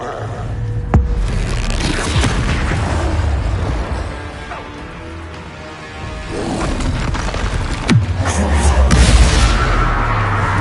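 Confringo spell explosions in a Harry Potter video game, loud booming blasts and crashes with sharp impacts repeating over a rumbling game soundscape, close and forceful, with no voices.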